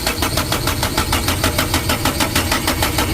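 Motorcycle engine being cranked with the throttle opened but failing to start, a loud, rhythmic chugging of the starter turning over without catching.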